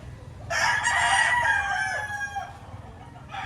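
A bull stag rooster crows once at a busy Batangas fowl market, a loud, near, drawn-out cock-a-doodle-doo over a low murmur of crowd noise, with another bird starting up briefly at the end.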